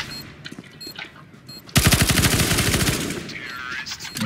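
Rapid automatic gunfire in Counter-Strike: Global Offensive on the Dust 2 map, a loud close burst of shots in quick succession following quieter game sounds.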